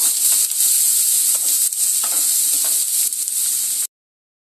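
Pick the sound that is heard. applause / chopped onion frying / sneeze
chopped onion frying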